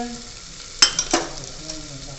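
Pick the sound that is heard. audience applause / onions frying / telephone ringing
onions frying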